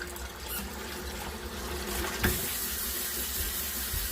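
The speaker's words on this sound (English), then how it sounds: "So now next step is just hit it with the sprayer." A kitchen sink sprayer blasts water onto fruit or vegetable seeds held in a colander, a steady hissing splatter running throughout with a brief clatter partway through.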